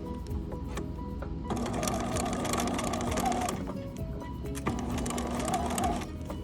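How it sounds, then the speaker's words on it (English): A sewing machine stitches one side of an invisible zipper, guided along the presser foot groove. It runs as a close, steady mechanical whir in two long bursts, with a lighter idle hum between them. "I'm going to sew this side the same way"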